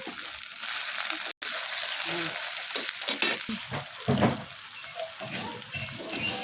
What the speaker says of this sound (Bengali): কড়াইয়ের তেল ছিল, তারপরও তেল দিয়ে দিলাম, পেঁয়াজ দিয়ে দিলাম